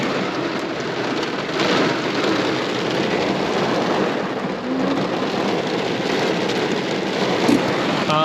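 Heavy rain pours down outside a parked car, a dense, steady roar of drops drumming on the roof and windows, loud and unbroken throughout.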